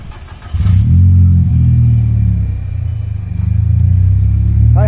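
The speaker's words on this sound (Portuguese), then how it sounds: "Tá com escapamento esportivo." Volkswagen Bora 2.0 with a sports exhaust revving close by, a deep rumbling engine that climbs sharply after a short idle, then settles into a steady low drone with a second rise near the end.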